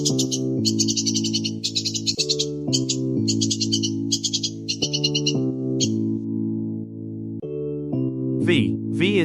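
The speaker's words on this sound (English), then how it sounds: "U is for umbrella bird." An umbrella bird call comes as a run of bright, rapid chirping bursts laid over a loud backing of sustained musical chords, ending with a couple of sharp rising squeaks.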